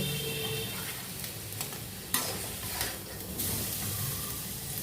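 Leafy greens fry in a pan with little oil, giving a soft, steady sizzle close by, punctuated by several scraping strokes and taps as a utensil stirs them, with no voices.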